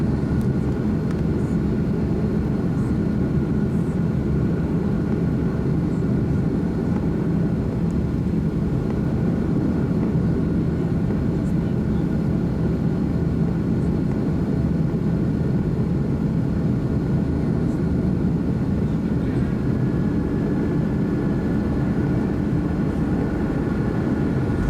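Inside the cabin of a Delta A330 widebody jet departing Salt Lake City International, a steady loud low roar of engine and airflow noise continues without a break.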